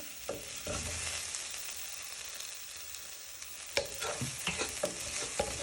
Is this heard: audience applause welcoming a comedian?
no